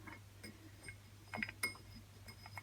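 A wrench tightening an exhaust bolt on a Peugeot Speedfight 4 scooter: a few faint metallic clicks and ratcheting ticks against a low steady hum, with two sharper clinks close by.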